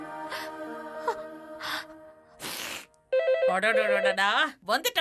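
Landline telephone ringing with repeated trilling rings in short bursts, loud and close, interrupted by a gasp and a voice speaking.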